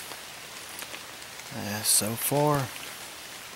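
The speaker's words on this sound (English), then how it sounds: "Listened to the rain move through, watching the fog roll in across the hollow." Rain falling through woods on a misty hollow, a soft steady patter under the whole stretch while someone speaks briefly in the middle.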